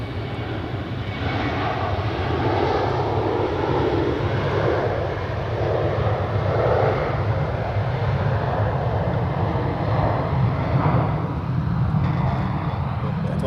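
A Pegasus Airbus A321neo at Zurich Airport gives off a steady, loud roar of jet engines that holds unchanged for the whole stretch, close and continuous, with no speech over it.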